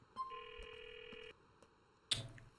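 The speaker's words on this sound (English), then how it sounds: "dial your phone number to activate the phone" A mobile phone dials in Grand Theft Auto IV, a short series of keypad tones followed by a sustained electronic tone, then a sharp click, with no talking.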